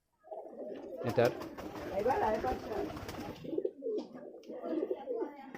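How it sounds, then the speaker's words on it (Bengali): An original Giribaz pigeon from Rajshahi coos in low, throaty rolling phrases at close range while someone talks over and between the calls. "এটা হচ্ছে রাজশাহীর অরিজিনাল গিরিবাজ কবুতর"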